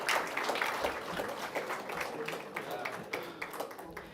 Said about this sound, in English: Can we give His Excellency, Deputy President, another round of applause?